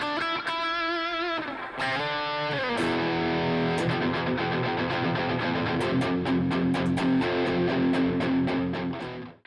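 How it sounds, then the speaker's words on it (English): A distorted electric guitar through a Mesa Boogie Mark V amp simulation with a tube screamer engaged, heavy amp crunch, plays chords and sustained notes, then a fast rhythmic chugging riff, loud and continuous. "Let's go ahead and try that Mesa Boogie Mark V."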